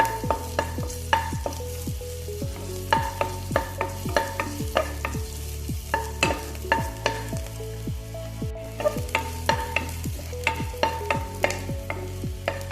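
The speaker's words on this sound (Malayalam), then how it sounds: "ഓയിലൊന്ന് ചൂടായി വന്ന ശേഷം ഒരു മുക്കാൽ ടീസ്പൂൺ വെളുത്തുള്ളി പൊടിയായിട്ട് അരിഞ്ഞത് കേട്ടോ അതേപോലെ തന്നെ ഇഞ്ചി പൊടിയായിട്ട് അരിഞ്ഞതും കൂടി ചേർത്തിട്ട് ഒന്ന് വഴറ്റാം" Finely chopped garlic and ginger sauté in hot oil, a continuous sizzle broken by regular rhythmic scraping knocks of a spoon against the pan, close and steady without talk.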